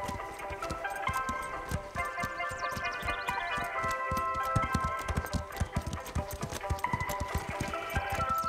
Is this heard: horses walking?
yes